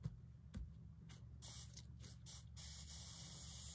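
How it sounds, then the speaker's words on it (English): A spray bottle mists bleach over a stencil on a t-shirt in a series of short hissing bursts, close and quiet, ending in a longer sustained spray. "So you're going to go from the top, just kind of give it a good spray, and then move on to the next one."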